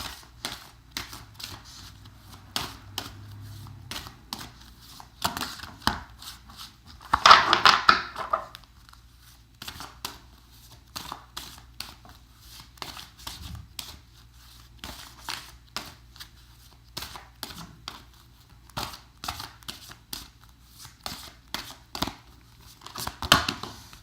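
Tarot cards are shuffled over and over in quick riffling, rustling bursts with short pauses between them, fairly close and with no talking.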